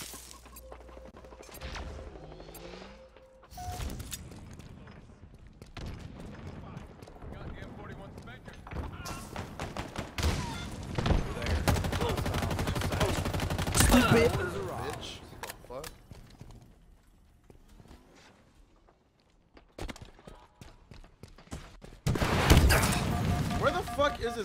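Halo Infinite gunfire during online multiplayer: dense bursts of shots, explosions and crashes rolling through the match, with a voice talking over much of it.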